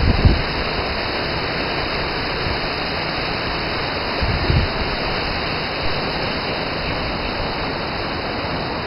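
A waterfall of clear water at São Thomé das Letras roars as a steady, close, unbroken rush that fills the whole stretch, with no voices over it.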